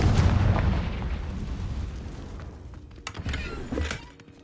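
A Confringo blasting spell goes off in Hogwarts Legacy, a loud booming burst at the start that rumbles and fades, followed by scattered smaller crackles and pops.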